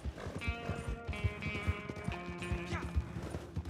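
Horse hooves clip-clop in a steady, rapid rhythm in Red Dead Redemption 2 Online, loud and close, with a rider urging the tired horse on between strides and a faint whinny-like tone.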